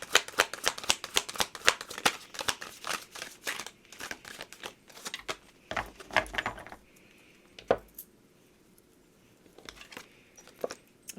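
Oracle cards being shuffled by hand, a rapid run of crisp riffling flutters close up, pausing briefly and resuming in shorter bursts toward the end.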